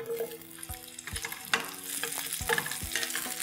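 Roughly cut onions frying in oil with black cardamom, star anise, peppercorns and cloves, a steady close sizzle broken by several dull knocks of stirring.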